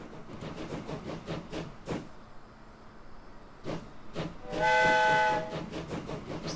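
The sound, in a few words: train running in the video game Train Fever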